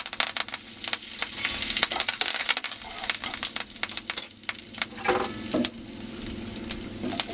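Asafoetida and curry leaves sputter and sizzle in hot oil, a dense, loud crackle with rapid pops and stirring scrapes throughout, close up and without speech.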